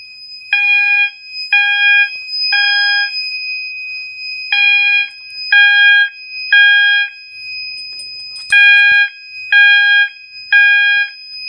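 A mass notification fire alarm system sounds a loud, close three-pulse temporal tone pattern, repeating in bursts with short pauses between groups and no talk over it.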